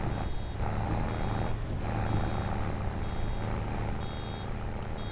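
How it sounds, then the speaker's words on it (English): Vehicle alarm beeping in Farming Simulator 25, repeated short high beeps at an even rhythm over a steady low truck engine rumble, moderately loud with no talking. "You gotta pay attention to that alarm."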